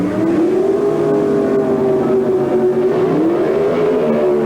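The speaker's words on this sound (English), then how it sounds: "A lot of RPM, and they leave the line together." Pro Stock drag cars, a Ford and a Chevrolet, at the 1978 NHRA US Nationals, engines held at high, loud, steady RPM with a rising pitch as they leave the starting line together.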